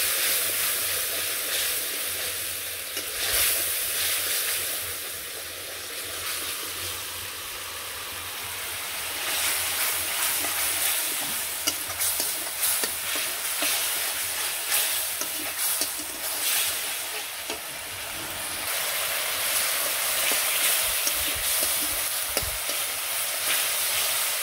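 Spices with turmeric, chili powder and five-spice fry with salt in oil for a shing fish curry, making a long, continuous frying hiss with stirring scrapes that swells and eases at intervals, with no talking.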